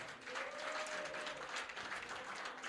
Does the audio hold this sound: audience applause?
yes